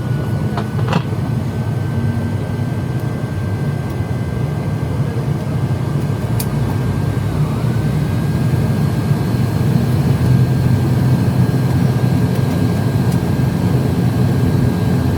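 Inside the cabin of a Sunlight Air ATR 72-500 turboprop, a loud, constant engine drone with a steady low hum and faint whine fills the space, with no voices.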